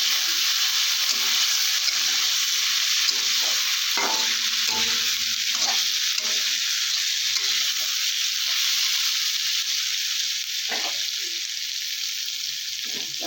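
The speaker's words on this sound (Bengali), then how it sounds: "পটল ভাজাতে দিয়েছি" Pointed gourd frying in oil with salt and turmeric, a steady loud sizzle with intermittent scraping and stirring knocks from the utensil, no talking.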